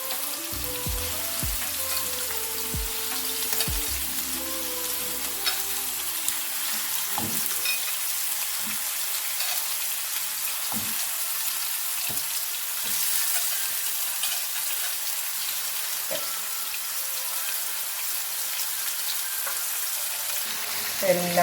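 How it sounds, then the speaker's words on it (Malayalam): Prawns seasoned with a generous spoonful of pepper frying in a pan, making a continuous dense sizzle throughout with a few scrapes and clatters near the start and no talking. "ആദ്യം ഞാൻ കൊഞ്ച് ഫ്രൈ ചെയ്യും."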